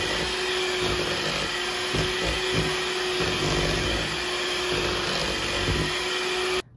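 A steady electric hand mixer whirs without a break while beating pineapple upside-down cake batter with full-fat sour cream, holding at a constant level until it cuts off abruptly at the end.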